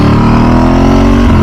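Ducati 996 SPS motorcycle exhaust, a loud steady engine drone with a low rumbling tone, close and continuous for a brief stretch, no talk.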